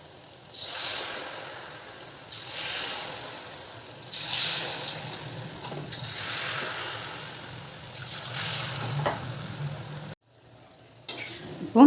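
Munthiri kothu balls frying in oil over a medium flame sizzle steadily, with bursts of stirring and spattering swelling every couple of seconds before a brief gap and a final clatter.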